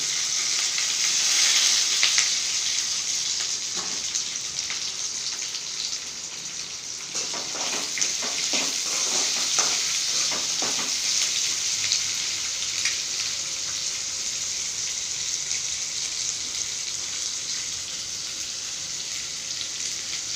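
Mustard seeds, curry leaves, chopped chili and onion fry in hot oil in a pan, giving a steady bright sizzle with scattered pops and a few stirring scrapes midway.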